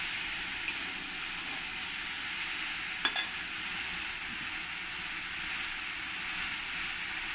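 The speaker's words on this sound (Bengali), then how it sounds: "এবার আমি এই চাল কুমড়োটাকে ভালো করে একটু নেড়ে চেড়ে নেব।" Ash gourd and potato fry in a pan with a steady, even sizzle that runs throughout, while a utensil stirs them with a faint scrape or two, and no voice is heard.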